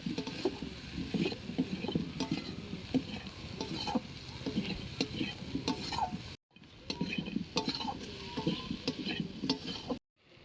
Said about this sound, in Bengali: 1 চামচ লঙ্কার গুঁড়ো, 1 চামচ নুন দিয়ে সমস্ত মশলা ভালো করে কষে নেব